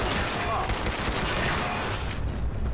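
Dense, continuous gunfire crackles through a busy Fallout 76 soundscape, rapid shots overlapping with a steady roar of action in the background.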